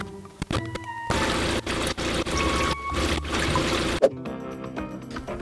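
Grey water gushes from a campervan's waste tank through an opened valve in the Scottish Highlands, a steady pour in bursts that stops abruptly near the end.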